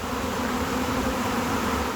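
A steady, dense buzz of many honeybees at a hive fills the air, constant and close, with no voices.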